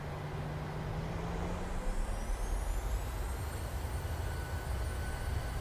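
Boeing 737-600 jet engines spooling up on the runway in a flight simulator as throttles advance, a rising whine climbing in pitch over a steady low rumble, moderately loud and without voices.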